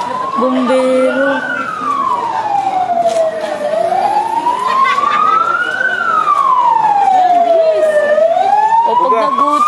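A fire truck siren wails loud and close, sweeping slowly up and down in long cycles as fire crews arrive at a fire in a city neighbourhood. Voices talk faintly in the background.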